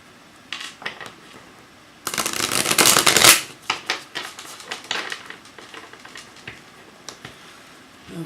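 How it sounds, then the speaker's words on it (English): Close, dry riffling as a deck of tarot cards is shuffled in one long, loud burst, followed by scattered soft taps and slides of cards being squared and handled. "Just shuffle them up a little bit, and I'll lay down the spread."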